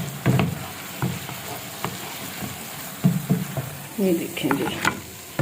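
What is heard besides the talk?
hash brown potatoes frying in a pan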